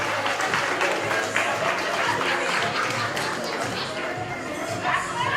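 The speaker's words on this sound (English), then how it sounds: "y'all can clap for yourselves" A crowd at a grief symposium claps for itself, with dense applause mixed with chatter and some laughter, continuing steadily throughout.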